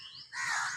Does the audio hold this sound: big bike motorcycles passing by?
no